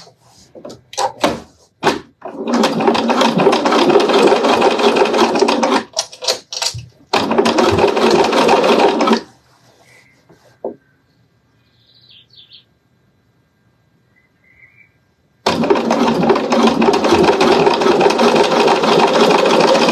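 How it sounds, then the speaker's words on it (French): Domestic sewing machine running long topstitching seams on a zippered pouch, loud and close, in several sustained bursts broken by short pauses and a quiet gap with faint clicks. "Et on vient faire tranquillement notre surpiqûre sur toute la longueur."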